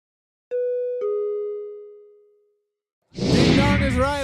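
Two-note ding-dong chime at a robotics competition, Tidal Tumble 2025, signalling that the match scores are in; two clear bell-like tones ring out and decay, then an announcer's voice starts.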